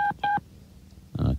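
Telephone dialing tones on a radio station's phone system, with two short beeps in quick succession followed by a louder buzzing tone after a pause.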